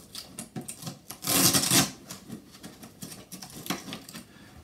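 Red Velcro straps being pulled off a Babyzen Yoyo bassinet, a series of short rasping tears with one longer, louder rip in the middle, close up and quiet otherwise.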